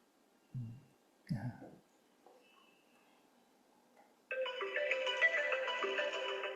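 A phone ringtone sounds in a lecture hall, a steady, fairly loud melodic tone that starts partway through and continues to the end, after a few brief voice bits and quiet room noise.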